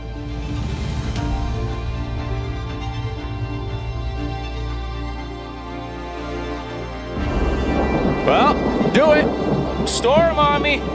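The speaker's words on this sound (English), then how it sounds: "Storm on me!" A thunderstorm rumbles over wilderness in Wabakimi, with low, heavy, continuous rolling under a steady wash of rain and wind; toward the end a loud closer burst swells in while a voice is heard briefly.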